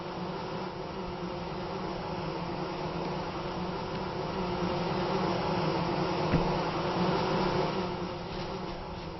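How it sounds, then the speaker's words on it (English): A populated skep of bees in a video game gives off a soft, continuous buzzing drone, steady and low in level, with no voices over it. "Magic underground bees."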